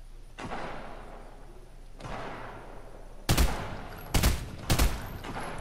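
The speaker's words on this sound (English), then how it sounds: "Yep, I'm whiffing these shots" SMG shots in Fortnite: two softer isolated bursts early, then three sharp, loud, close blasts in quick succession near the end, with no talk over them.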